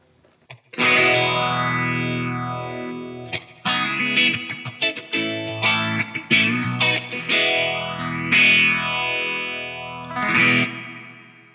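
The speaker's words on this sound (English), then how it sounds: "So let's hear the phaser in its current form." Guitar chords played through a phaser effect on a Line 6 HX Effects unit, the tone sweeping up and down in slow swirling waves, loud and alone.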